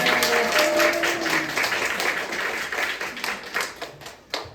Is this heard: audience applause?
yes